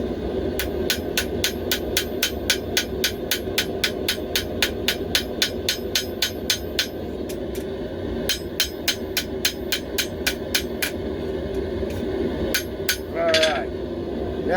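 A hammer strikes the hot tip of a forged knife blade on an anvil in steady, evenly spaced ringing blows, about three per second, close and sharp, pausing briefly near the end.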